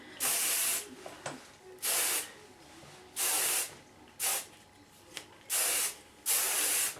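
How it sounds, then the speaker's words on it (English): Six short bursts of hairspray hiss loudly from an aerosol can, each lasting under a second with quiet pauses between, close to the microphone. "you want to spray it really well"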